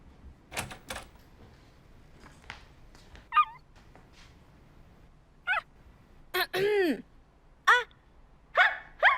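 A voice imitates a dog barking, giving several short, yappy barks spaced irregularly amid quiet pauses.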